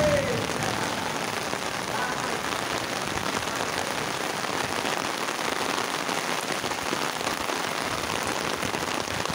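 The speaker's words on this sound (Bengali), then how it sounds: "প্রচুর বৃষ্টি।" Heavy rain pours steadily in Pallabi, Mirpur, Dhaka, a dense, unbroken hiss of drops on surfaces that stays loud and even throughout, with no voices.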